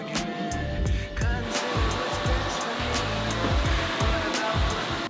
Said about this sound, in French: Cet aspirateur, je suis fan. C'est un délire. Non mais regardez, ça aspire, ça nettoie.